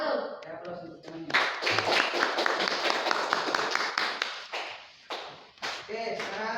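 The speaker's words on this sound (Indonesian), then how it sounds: "Saya aplaus untuk temannya" Applause for a speaker at a gathering: a burst of hand clapping from a group, fairly close and loud, dense at first and then thinning into scattered claps, with voices mixed in.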